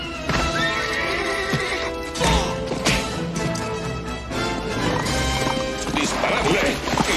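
A horse whinnies loudly while hooves clip-clop at a run in an animated film, over a busy, loud scene of shouting, music and crashes.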